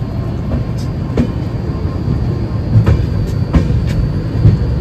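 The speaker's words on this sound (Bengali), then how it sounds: "ট্রেনটা জাস্ট এখন আস্তে আস্তে এনজিপিতে ঢুকছে" A train eases slowly into NJP station, a steady low rumble with periodic clanks and clicks of wheels over rail joints spaced a second or so apart, close and moderately loud with no talk.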